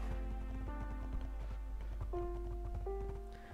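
Several horses walking in the Minecraft video game, a quick, steady patter of clip-clop hoofbeats with tonal game sounds layered over them.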